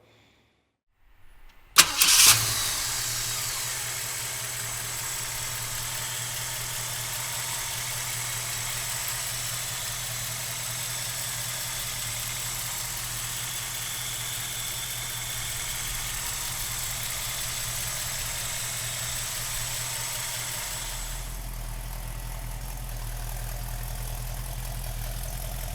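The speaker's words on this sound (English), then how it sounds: "we're also going to give you all the details about the 390 under the hood. So let's listen to it fire up" A 1967 Ford Mustang with a 390 V8 cranks and fires up with a sharp burst, then settles into a steady, rumbling idle that runs on evenly for over twenty seconds, deepening slightly near the end.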